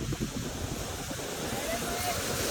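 Water flows steadily through an irrigation channel in a chikoo orchard farm, a continuous low rushing wash mixed with wind noise across the microphone.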